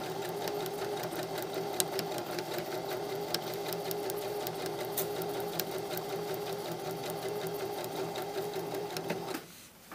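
A sewing machine blind hemming a skirt runs in a steady, even whir for about nine seconds, then stops abruptly near the end.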